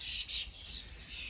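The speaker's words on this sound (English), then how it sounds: "The blackbirds were upset" Bird calls, probably a blackbird, come as a few short, high chirps over a very quiet background, faint and with no talk.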